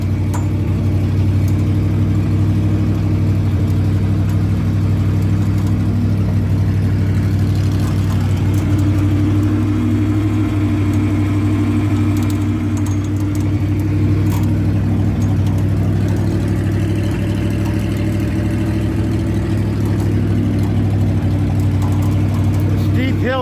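A boom truck's engine drones steadily and loudly throughout, a constant low rumble with slight shifts in load as it winches a truck up a steep, rain-soaked hill while out collecting firewood.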